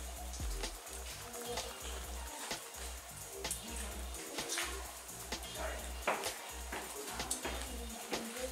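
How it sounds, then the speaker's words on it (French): Rain falls outside near a cave entrance at Barjac, a soft continuous patter with scattered heavier drips, heard faintly under a low pulsing hum. "il pleut"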